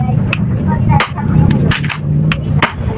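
Toy pellet guns, including a small FN-style pistol, firing at a target: several sharp cracks in irregular succession over a steady low hum.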